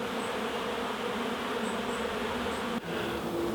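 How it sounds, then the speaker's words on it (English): Honeybees flying in and out of a hive entrance in an apiary, a steady close buzzing hum that runs continuously with no talk. "Well, just look at the bees going in and out of Queen Jasmine's hive on the right there"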